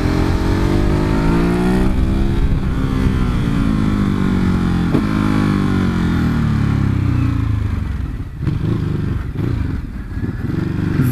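A Ducati Hypermotard 939 SP motorcycle ridden close by, its engine droning loudly with rising and falling revs through the gears, then a few sharp throttle blips near the end.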